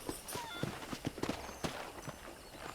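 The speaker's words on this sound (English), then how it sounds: "let's see if you can still ride a horse." Horse hooves clip-clop at a steady walking rhythm while riding in Red Dead Redemption, a run of fairly close, moderately quiet hoofbeats with no talking.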